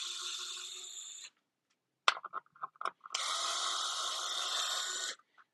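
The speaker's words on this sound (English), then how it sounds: "I love this drill." A cordless power drill backing screws out of a RedCat Racing Vigilante 1:5 scale RC monster truck, two sustained whirring runs separated by a pause filled with a few short clicks and clunks, close and with no talk.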